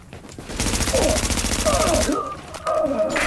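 Rapid automatic gunfire in the video game The Division, a dense continuous burst lasting a few seconds, loud and up close, with a brief pause before shooting resumes.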